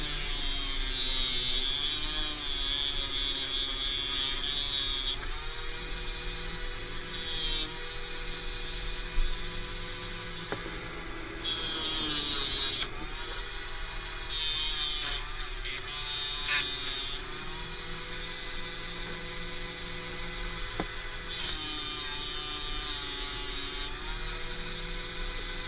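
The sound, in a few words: sanding disc grinding a bead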